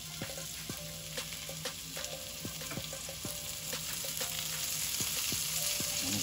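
Shrimp sizzle in olive oil in a pan for Pepper Pot curry shrimp, a steady close frying hiss broken by scattered utensil clicks and scrapes, with no talking.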